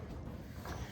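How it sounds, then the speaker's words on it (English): Wind buffets a microphone outdoors beside a classic hot rod project car, a steady low rumbling roar with gusts swelling briefly, continuous through the moment with no voices. "It's a little windy today."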